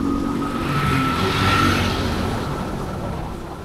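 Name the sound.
busy road traffic passing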